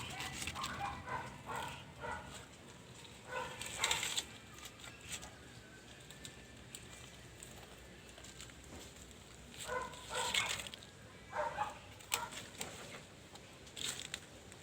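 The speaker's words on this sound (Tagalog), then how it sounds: "Talaga itong mga aso ito." Dogs bark in several short bursts, spaced irregularly over a quiet, faint background, somewhat distant.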